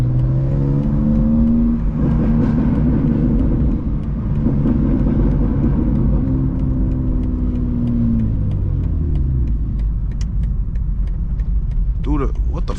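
A BMW M2 GT3 with a full catless exhaust revs and pulls hard, its loud engine note climbing and falling in repeated sweeps, with people talking over it.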